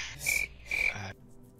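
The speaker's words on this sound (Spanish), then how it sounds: "Activa los grillos, Anubis." Cricket chirping effect: two short, bright chirp bursts close together, fairly loud and near, with quiet afterward and no talking.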